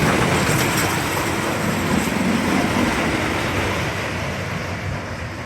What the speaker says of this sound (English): You can hear the train coming back.